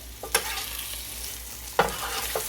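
Sauce reducing on a hot griddle as a casserole is turned, with a continuous close hiss of sizzling and two brief scraping stirs, one near the start and one past halfway, and no voices.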